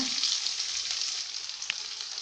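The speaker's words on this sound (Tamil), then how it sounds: "ரெண்டு தக்காளி இதையும் போட்டு நல்லா வணக்குங்க" Onions and tomatoes sautéing in hot oil in a pan for a Tamil oil-brinjal kuzhambu, giving a steady, close, dense sizzle with one brief tap near the end and no talking.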